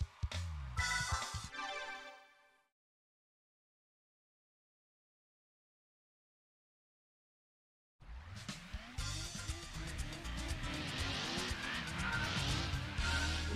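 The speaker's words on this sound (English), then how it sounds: "Engines sound all very distinct in this game, too." Racing cars in a video game, their engines and tires loud in short bursts at the start, then after several seconds of silence a sustained roaring stretch with rising and falling revs.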